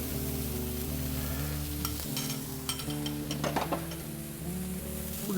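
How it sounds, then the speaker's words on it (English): Steaks and onions for a French onion Philly cook on a hot griddle, a constant close sizzle broken by occasional metallic scrapes and taps of a utensil, with no voices. "Those are gonna heat up at the same time as those steaks are cooking."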